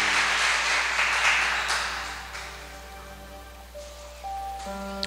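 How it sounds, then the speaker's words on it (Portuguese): A Portuguese-speaking church congregation claps loudly at first, then the applause thins and fades out as sustained organ or keyboard notes take over near the end. "Pode aplaudir o nosso Deus Todo-Poderoso."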